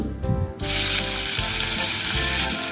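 Cinnamon pieces sautéing in hot oil in a pan for fish molly, a loud dense sizzle that swells suddenly after a brief quieter start and then holds steady.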